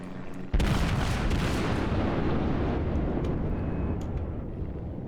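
A heavy battleship broadside in World of Warships, with an Iowa in the fight: one huge booming salvo lands suddenly, then a long rumbling roar that slowly fades.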